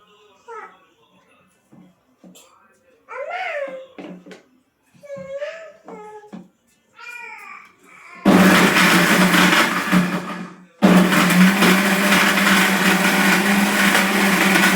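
A mixer grinder blends masala with tamarind for a Mangalore-style fish curry. Brief voices and child babble come first, then the grinder roars in loudly with a steady, dense whir, cuts out briefly, and starts again.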